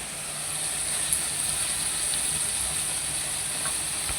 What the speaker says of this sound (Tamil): இப்போ மட்டனை கொட்டுவோம். கொட்டியாச்சு ஃப்ரெண்ட்ஸ்.